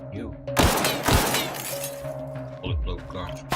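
Gunfire shatters glass in the sci-fi shooter The Outer Worlds, with several sharp crashing bursts of breaking glass and thuds while a person talks over the action.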